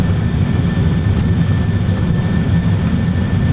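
Airbus A320 jet engines roar in reverse thrust on the landing rollout at Innsbruck Airport, a loud, steady, dense low rumble with a faint high whine, continuous throughout and close by.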